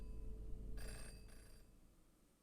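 A telephone rings in the video game Jenny LeClue, one short electronic ring burst that stands out over a low background hum and then fades, with no voices.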